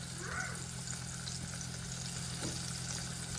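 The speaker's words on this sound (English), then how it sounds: "Cooking in progress." White bass, freshly caught from the Maumee River, frying in a pan with hot oil, giving a steady, dense sizzle and crackle that runs throughout with a low hum beneath and no talking.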